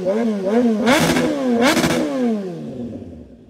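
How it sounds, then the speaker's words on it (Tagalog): Motorcycle exhaust on a 2021 Kawasaki ZH2 or 2022 Suzuki GSX-S liter bike, revved twice in sharp bursts over a steady idle and then falling away, loud and close with no talking. "pero nabibitin pa ako sa rev ni Rod"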